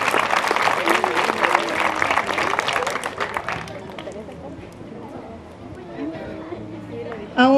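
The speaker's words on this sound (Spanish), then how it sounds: "Quiero que le demos un fuerte aplauso" Applause from an audience at a sugarcane harvest closing ceremony for a school year, strong clapping for a few seconds, then fading into murmuring crowd chatter with a voice over it.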